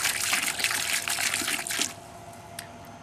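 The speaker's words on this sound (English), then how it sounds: "Pour yourself a decent amount of xylene inside of each tank." Xylene cleaning solvent trickles and splashes as it is poured into the tanks of an SB2009 polyurea pump, a close, steady liquid pour lasting about two seconds before stopping abruptly.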